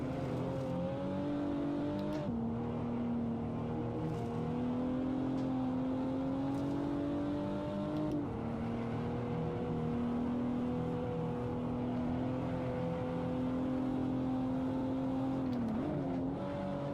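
A Toyota Supra TA90 racing car lapping the Buttonwillow CW13 circuit in the Assetto Corsa video game, its engine giving a loud, sustained droning whine that drops and climbs again at gear shifts.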